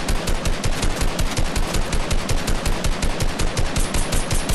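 Rapid automatic gunfire from a soldier boot camp training session in a video game, loud and close, with bursts of shots in a steady fast rhythm filling the whole stretch without talk.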